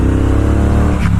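A 2018 Triumph Bobber Black motorcycle accelerates hard, its engine holding a loud, steady, deep drone up close, with a brief shift in tone near the end.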